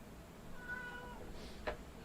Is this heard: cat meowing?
yes